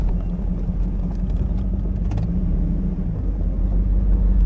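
A 1996 Pontiac Firebird Trans Am engine idles with a steady low rumble close by while its transmission is put into reverse and drive, with no gear change clearly standing out.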